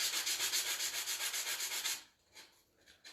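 Hand sanding of cedar wood for a hanging planter, a quick run of rhythmic rasping strokes, close and alone, then a couple of softer passes after a pause.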